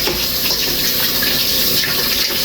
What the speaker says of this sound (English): So you want to wash and rinse your peas.